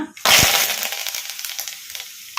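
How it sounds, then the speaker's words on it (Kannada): Curry leaves dropped into hot oil already holding mustard seeds and cumin give a sudden loud burst of sizzling that settles into steady crackling spatter, with small pops scattered through. "ಸಾಸಿವೆ ಜೀರಿಗೆ ಚಟ್ಪಟ ಅಂದಿದಾವಲ್ಲ ಈಗ ಇದಕ್ಕೆ ಕರಿಬೇವು ಹಾಕೋಣ"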